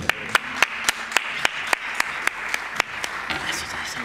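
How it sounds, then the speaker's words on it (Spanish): An audience at a local heritage talk on industrial history applauds to welcome a presenter, a soft bed of clapping punctuated by a regular, close, sharp clap repeated every fraction of a second, with murmuring voices underneath. "Un fuerte aplauso para Antonio Manuel Casado Herrera."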